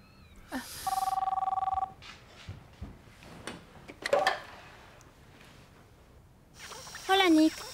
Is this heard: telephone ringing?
yes